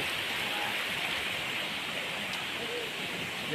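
Clear, ice-cold stream water flows near a small waterfall at Mahabaleshwar, a steady broadband rush that holds evenly throughout without breaks.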